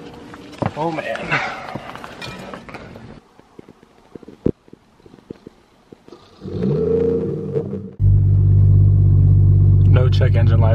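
A straight-piped BMW M340i G20 comes to life, first a loud rising rev blast and then a deep, heavy, steady exhaust drone close by, with someone speaking over the opening seconds and quiet ticking gaps between.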